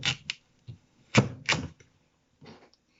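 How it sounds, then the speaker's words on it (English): A knife cuts through a dense peeled rutabaga on a board, producing a few distinct close crunching thuds in an irregular rhythm, with no talking. "I've got my rutabaga peeled here. I'm going to cut it in half."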